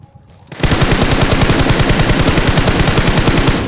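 Rapid automatic gunfire sounds in a video game. A loud, sustained burst of evenly spaced shots starts abruptly after a quiet half-second and continues without a break to the end, with no talking.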